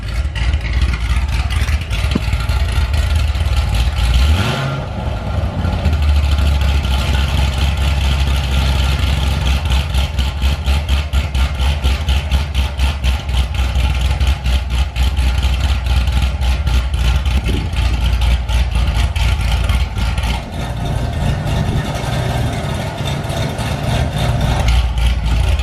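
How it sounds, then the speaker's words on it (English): A modified Corvette with a loud, deep exhaust runs continuously close up for about 25 seconds, a steady heavy rumble with a brief dip before it settles back to a constant drone. "Let's get a little rev."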